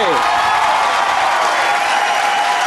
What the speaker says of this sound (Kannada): ಸೊ ವಿನ್ನರ್ಗೂ ರನ್ನರ್ಗೂ ಬರಲಿ ಜೋರಾದ ಚಪ್ಪಾಳೆ